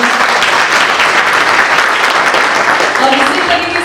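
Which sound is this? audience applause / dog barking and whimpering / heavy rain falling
audience applause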